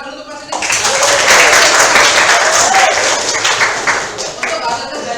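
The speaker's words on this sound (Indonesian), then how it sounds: "Beri tepuk tangan dulu untuk kelas ini." A classroom of students claps together after group work, a loud burst of brisk hand clapping that starts abruptly, holds strong for several seconds, then tapers, with voices mixed in.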